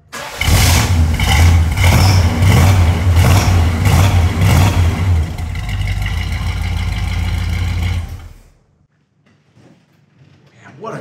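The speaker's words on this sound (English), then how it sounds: "Rev it up once, D. One more time," A 1970 Oldsmobile Cutlass Supreme with a 455 V8 revs repeatedly in loud, rising bursts over a rough idle, close by, then cuts off abruptly near the end, leaving near silence.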